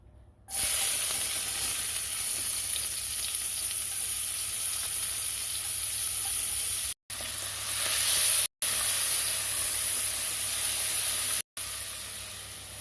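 Onions sizzle hard in lamb juices and oil, a loud, steady hiss that drops out briefly a few times and then resumes.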